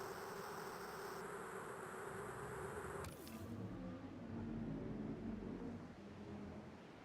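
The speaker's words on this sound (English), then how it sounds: "It's snow, and they want to tell us it's snowing, but it sounds like bees." Snowfall ambience in the video game Jurassic World Evolution 3 makes a steady, faint buzzing drone like swarming bees, continuous throughout with a slight shift in tone midway.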